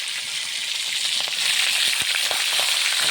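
Fish fries in hot oil in a pan with a loud, steady, close sizzle that continues without a break, with a few faint crackles and no talking.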